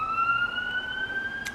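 Ambulance siren driving by on a street in Hilo, Hawaii, a steady rising wail heard at moderate distance over background traffic noise.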